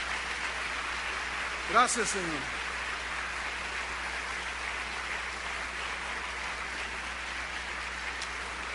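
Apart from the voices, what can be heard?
congregation applause in church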